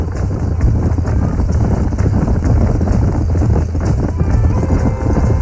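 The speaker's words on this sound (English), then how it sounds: "These are fine horses." Horses trot in the Red Dead Redemption video game, a loud, dense, continuous clatter of hooves close by with a low rumble beneath.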